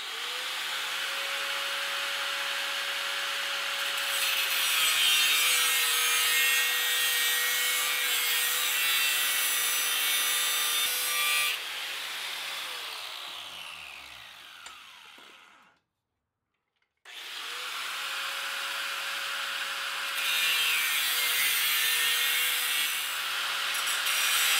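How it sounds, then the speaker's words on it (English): Cutting around a steel propane cylinder to make a crucible for aluminum casting gives a loud, continuous, gritty grinding whine that wavers slightly in pitch as the tank turns, stops briefly near the middle, then resumes. "So now we basically just cut right around the line, turning the crucible as I go,"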